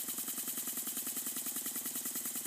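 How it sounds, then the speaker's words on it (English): A small model wobbler steam engine runs steadily, its rapid, even chuffing beat continuous and close with no talk. "Good to run the little engine once you get dialed in."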